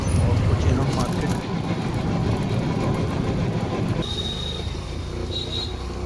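Riding aboard a Delhi Metro train: loud rumbling wheels and cabin noise that drop in intensity partway through, with a thin squeal of wheels and people talking in the carriage.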